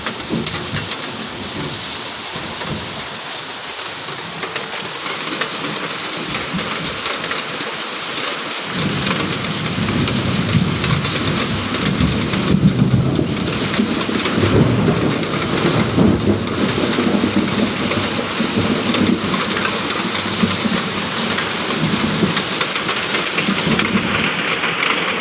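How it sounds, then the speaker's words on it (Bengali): Steady heavy rain pours down throughout, joined by deep rolling thunder that swells and grumbles in the background, loud and continuous with no voices. "ফাইনালি বৃষ্টিটা এলো।"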